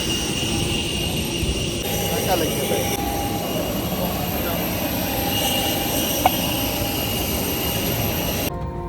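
Steady, loud engine roar fills an aircraft cabin throughout, a constant broadband drone with faint clicks and a brief tap near the end.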